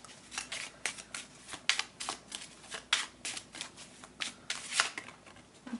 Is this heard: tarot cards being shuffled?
yes